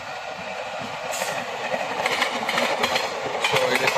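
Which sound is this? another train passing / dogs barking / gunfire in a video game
another train passing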